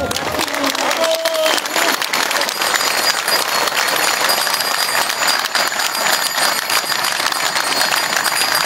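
Loud, sustained applause and cheering from a crowd at a pro-democracy rally on St. Egidius Square in Poprad, Slovakia, a dense continuous roar of clapping that holds steady throughout.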